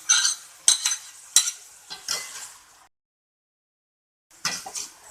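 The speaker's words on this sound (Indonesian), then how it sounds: "Kita aduk dan campurkan daun bawang." Vegetables and spring onions being stirred and fried in a pan, several scraping, sizzling strokes in quick succession, then a brief silence and another burst of stirring, close and clear without talk.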